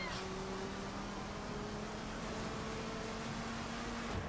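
A Dodge Ram SRT truck drives on dirt in the racing video game The Crew, its engine a faint, steady low hum throughout with a thin whine above it.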